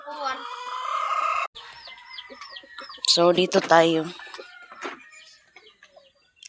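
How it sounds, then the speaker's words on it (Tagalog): Chickens clucking and a rooster crowing behind a rural house in Agusan Marsh, with nearby loud squawks and calls in bursts, while a person speaks briefly. "Mga manok."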